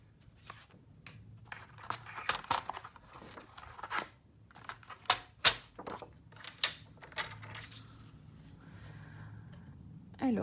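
A paper trimmer cuts design paper: scattered sharp clicks and sliding scrapes of the blade and paper handling, close and fairly quiet, with no talking.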